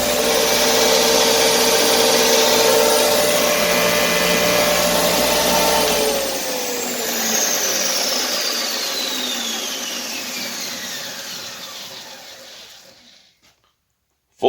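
A yard sale machine with a full-horsepower electric motor runs loud and steady, then winds down as its tone falls away over several seconds and cuts to silence near the end.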